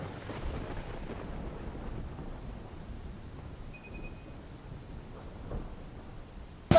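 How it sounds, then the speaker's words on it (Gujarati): Heavy monsoon downpour in Palanpur, Banaskantha, a steady dense hiss of rain pouring over streets and rooftops, continuous and fairly even throughout with no voices. "વરસાદી માહોલ જામ્યો છે"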